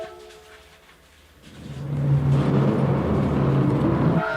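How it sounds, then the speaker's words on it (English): A GT3 racing car engine in a video game revs up from quiet into a loud, sustained roaring drone with a steady high whine, heard alone and up close. "I am revving up the engines"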